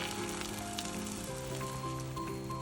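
Beaten egg mixture sizzles steadily in a hot pan over fairly high heat while a rolled omelette for brown-rice gimbap cooks, a continuous close, even crackle with no voices.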